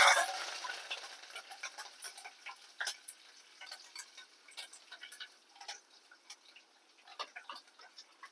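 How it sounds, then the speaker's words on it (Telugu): Tempering spices crackle and sizzle in hot oil in a kitchen pan, a soft steady hiss broken by many sharp, irregular pops and ticks while being stirred, with no talk. "పోపులు వేసేసుకుందాం ఇందులో"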